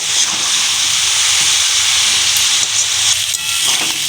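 Spices and chilli powder fry in a pan for a rohu fish curry with cauliflower and potato, giving a loud, continuous hiss and sizzle close up, with no pauses.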